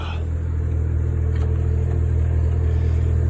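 A modified turbocharged 2002 Lexus GS430 V8 idles steadily up close, a deep, even rumble holding constant without revving.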